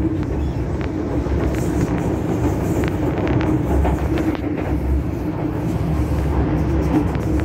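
A Hong Kong train rumbles steadily along the track, a continuous low roar with faint rattling throughout, fairly close and loud.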